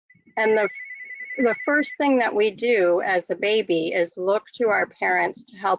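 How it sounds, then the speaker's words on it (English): A telephone rings behind someone speaking indoors, a steady electronic ring tone lasting about a second and a half, quieter than her continuous close talk. "I apologize for the phone behind me."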